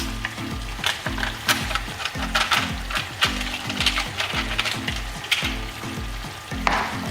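Curry chicken with coconut milk being stirred in a pot, a loud bubbling sizzle with repeated rhythmic scrapes of a spoon against the pot, close and continuous with no talk.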